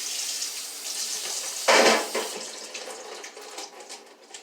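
Tap water splashes into a sink while canned vegetables are rinsed, a steady hiss with a brief louder gush partway through before tapering off.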